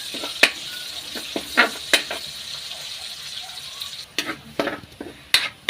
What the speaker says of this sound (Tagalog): Medyo itutosta natin yung sibuyas para malalabas yung aroma.